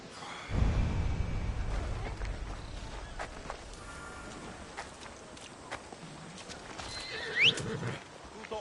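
A horse in the Assassin's Creed Odyssey video game plods with steady clip-clopping hooves over a soft ambient background, then lets out a short, high whinny near the end.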